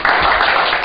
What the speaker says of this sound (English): Can we give the young man an applause?